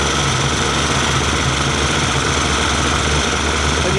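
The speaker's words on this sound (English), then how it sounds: "the engine's ticking over too fast at the moment" A rebuilt Yamaha 75hp outboard engine, uprated to 90hp, idles too fast with a steady, loud, continuous drone and no change in pace throughout.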